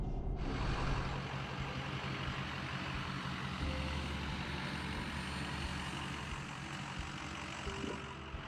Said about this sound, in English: Truck is running really good.